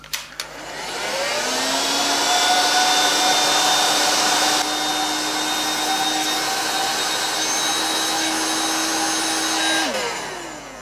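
A heat gun blows steadily and loudly for about nine seconds while shrinking heat shrink tubing over a waterproofed temperature probe joint, with a faint rising whine in the airflow as it runs, then cutting off.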